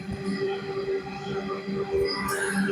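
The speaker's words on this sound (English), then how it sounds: "There is a train. A freight train is loud." A loud freight train rumbles past nearby, a continuous heavy roar with steady low droning and some metallic tonal whine, filling the whole stretch.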